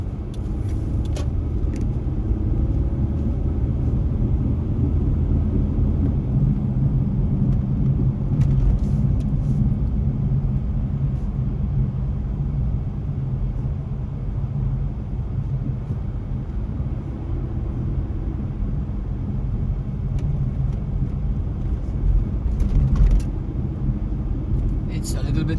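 Truck driving on a highway while its wheels may need alignment or balancing, a steady low engine and road rumble heard from inside the cab, droning evenly throughout with faint passing traffic and someone talking over it.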